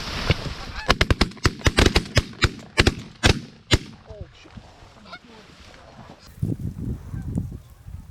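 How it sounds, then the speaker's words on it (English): A large flock of geese honks loudly as it takes off from a hunting field, with a burst of sharp gunshots at the start, calls trailing off, then a voice swearing. "There's a lot of geese that just got up."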